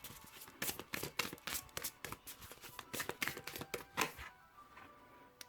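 Tarot-style reading cards are shuffled by hand, a quick run of soft riffling flicks and taps over several seconds, close and quiet, ending in a pause.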